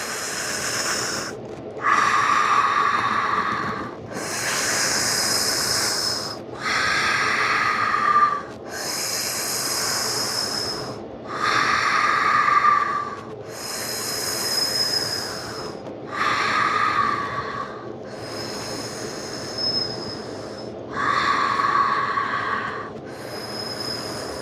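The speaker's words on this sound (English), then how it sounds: "Breathe. Keep breathing with me." A person breathes deeply in and out through the mouth in slow, loud, regular cycles, with each long rushing breath separated by brief pauses during a fascial release exercise.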